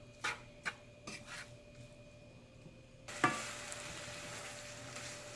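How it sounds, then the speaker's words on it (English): Fenousse being stirred in a pan on low heat, several soft scraping strokes at first, then a steadier rasping rub with a faint sizzle that carries on to the end, quiet and close. "Keep stirring it and let the heat stay on low."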